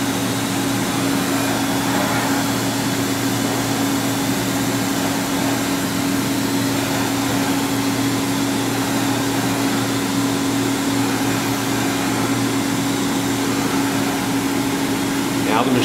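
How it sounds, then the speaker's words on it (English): An LK Machinery TC-1200 vertical CNC drill-tap center runs slowly on unstable footing, giving a continuous mechanical hum with a steady tonal whine, close and even in level throughout. "the machine is running much slower than it would ordinarily because of the unstable footing"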